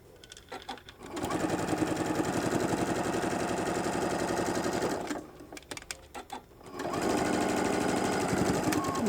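Sewing machine stitching along the edge of a shoulder bag, a rapid rhythmic mechanical chatter in two close bursts separated by a short pause with a few clicks.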